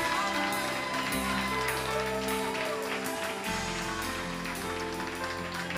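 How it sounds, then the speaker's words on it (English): Church congregation clapping their hands in praise during a service, a steady wash of many hands clapping along with cheering voices and a sustained musical backdrop throughout. "can we give the Lord a huge hand clap of praise today?"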